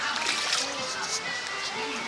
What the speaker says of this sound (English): Ooh, splish splash.